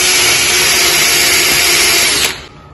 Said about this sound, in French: prendre la perceuse avec la gomme et retirer la gomme qui reste